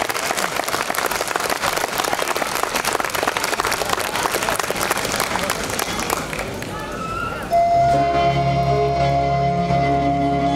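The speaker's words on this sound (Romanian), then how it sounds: "Aplauze!" A crowd at a Romanian folk concert applauds loudly and continuously, then the clapping gives way to a choir and instruments starting up near the end.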